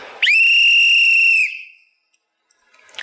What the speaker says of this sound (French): je vais siffler pour tous les papas qui dorment en classe